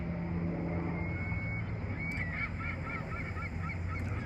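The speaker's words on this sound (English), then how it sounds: "There's an island with many birds on it." Geese on a lake island honking in a rapid, repeated chorus from a short distance, with steady wind and ambient noise underneath.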